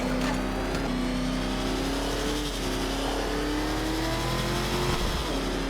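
The Batmobile in Batman: Arkham Knight drives hard with a loud, continuous engine roar and rising revs, plus a brief tire squeal near the end, close and sustained throughout.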